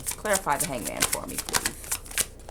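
Tarot cards are shuffled by hand in quick, papery riffling bursts, close up and under a voice as she speaks.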